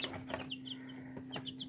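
Chicks peck and cluck nearby in short, repeated high chirps and cheeps, several quick calls in an uneven rhythm over a low steady hum.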